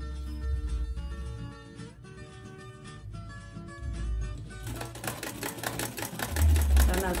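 An old sewing machine runs in steady rhythmic bursts, the mechanical clatter growing louder and busier toward the end, with some talk or background voices mixed in.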